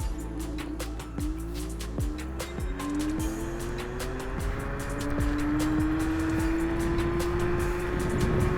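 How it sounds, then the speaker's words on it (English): A Kugoo Kirin G3 dual-suspension electric scooter with knobby tires accelerates at full throttle in mode 3. Its motor whine climbs steadily in pitch over several seconds above continuous rolling and wind noise. "Let's test the acceleration from 0 to 30 in mode 3, full throttle, ready, go."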